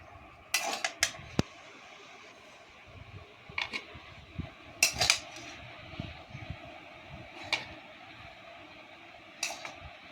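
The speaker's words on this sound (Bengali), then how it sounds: "ওই ভাত ভাজা হয়ে গেছে, এবার থালিতে নামিয়ে নিচ্ছি।" Fried rice made with flat beans, potato and peanuts is scraped from a pan onto a plate, with sharp metal-on-metal clinks and scrapes spaced irregularly over a quiet background.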